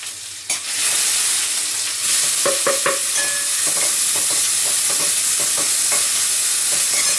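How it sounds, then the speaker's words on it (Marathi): Chopped onion and tomato sautéing in hot oil in a pan, tempered with mustard seeds, cumin, curry leaves and garlic, give a steady close sizzle with repeated scraping stir strokes throughout. "कांदा टमाटा पण याबरोबर परतून घेते."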